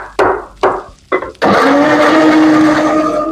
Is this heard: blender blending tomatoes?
yes